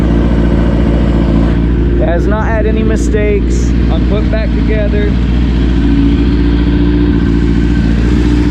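A 2008–2010 Kawasaki ZX-10R four-cylinder sportbike engine idles steadily nearby, a loud continuous drone running throughout while someone talks over it.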